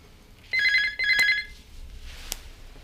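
A domestic telephone rings indoors in two loud, trilling bursts close together, then leaves a quiet room with a faint click.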